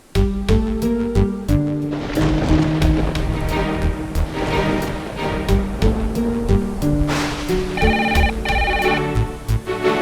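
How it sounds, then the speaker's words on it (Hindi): A melodic electronic ringtone keeps playing over a dense musical backdrop, ringing on steadily without being picked up. "एक तो ना लाजो फोन उठा रही है, ना घर में कोई फोन उठा रहा है।"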